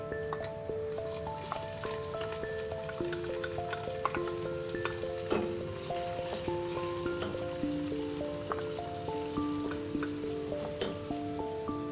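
Chopped onions fry with rice in a pot for coconut rice in tomato cooking sauce, producing a steady, dense crackling sizzle throughout, close and moderately quiet, with faint tonal background sounds and no speech.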